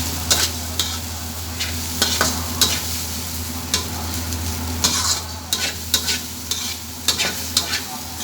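Fried rice with egg and pork adobo stir-frying in a pan, a continuous low sizzle broken by regular sharp scrapes and taps of the spatula against the pan, close and clear.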